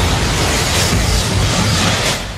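A broad, dense roaring rumble meant to depict the Big Bang, loud and sustained throughout with deep low-end weight before easing slightly at the end.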